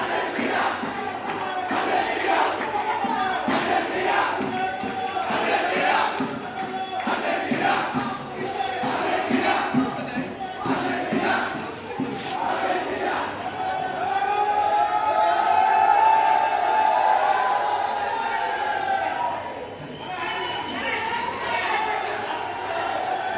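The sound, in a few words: crowd of Argentina football supporters marching and chanting in procession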